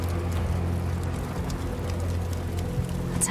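A helicopter flying overhead in a remote wilderness, heard as a steady low rotor drone that holds throughout, with no talking.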